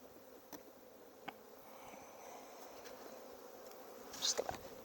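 Honey bees buzz faintly around an open backyard hive, a low, thin hum under quiet background hiss that swells briefly near the end as a bee passes close.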